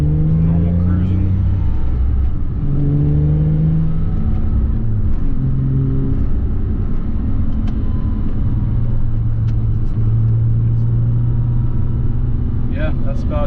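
A Porsche Cayman S 987.1 with a Milltek Sport aftermarket exhaust hums with a deep, steady exhaust drone while cruising, tones shifting slightly as it shifts gears, with a voice talking over it.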